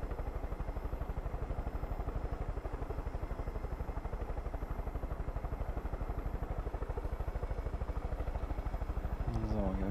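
A helicopter flies in the video game Far Cry 5, its rotor chopping loud and steady in a fast, even beat throughout, with a person talking over it.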